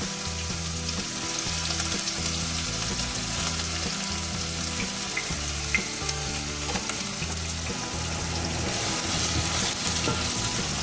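Onion frying in hot oil for beef broccoli, a steady, close, continuous sizzle with a few small pops, heard throughout with a constant low background hum and no talk.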